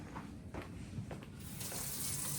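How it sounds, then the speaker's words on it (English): A sink tap runs for hand washing in a wound care practical setting, a steady broadband rush of water that grows louder and brighter partway through, close and continuous with no talking. "Now I'm going to go ahead and wash my hands"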